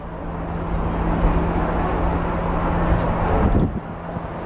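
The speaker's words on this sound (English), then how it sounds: "All the trucks take this road right over here, and they're so freaking loud driving on the rumble strip" Trucks drive over a road rumble strip, giving a loud, steady roar with a droning hum and some wind buffeting. The noise dips briefly near the end.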